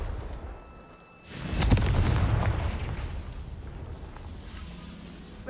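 A Confringo fire-blast spell detonates in Hogwarts Legacy: one sudden boom after a quiet moment, then a long rumbling decay that fades slowly.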